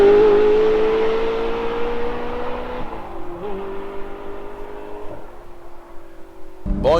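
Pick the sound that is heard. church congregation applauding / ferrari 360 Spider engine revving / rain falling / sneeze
ferrari 360 Spider engine revving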